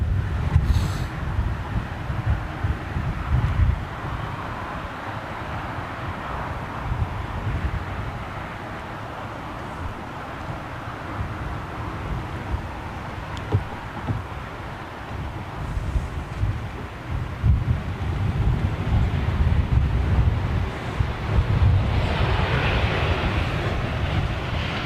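Distant Airbus A380 airliner on approach, a low steady rumble mixed with gusting wind noise throughout, swelling slightly louder toward the end.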